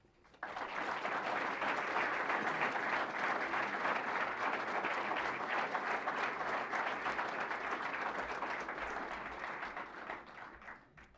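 Audience applause welcoming Jeff Linder as the new head men's basketball coach at a press conference, a steady burst of many hands clapping that rises quickly, holds for about ten seconds, then tapers off.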